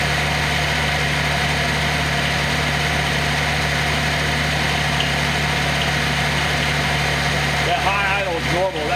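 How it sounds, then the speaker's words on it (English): A Nissan 280ZX turbo engine runs at high idle on a test stand, a loud, steady droning hum with constant vibration throughout, and voices break in faintly near the end. "That high idle is normal."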